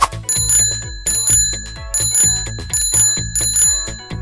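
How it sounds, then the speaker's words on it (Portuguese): A bicycle bell rings loudly in repeated quick double rings, bright and metallic, with a low accompaniment beneath it. "Eu ouvi a campainha!"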